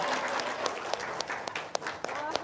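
Lively applause from guests at a gathering, with a dense patter of clapping and sharper individual claps popping through for a couple of seconds.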